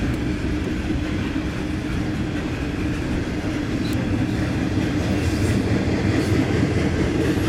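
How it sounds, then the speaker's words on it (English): A loud freight train rumbles past steadily, wheels clattering on the rails with a constant roar and occasional metallic clicks and squeals. "I think this train's bound for North Carolina"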